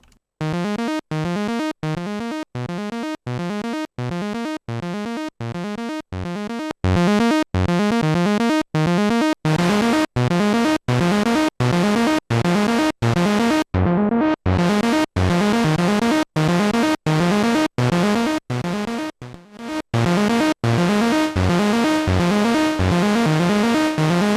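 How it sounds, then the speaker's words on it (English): A raw Moog synthesizer with effects off plays a fast, repetitive arpeggio of bright buzzing notes, loud and unbroken for the whole stretch, with brief gaps between phrases. "So this is the raw audio coming from the Moog,"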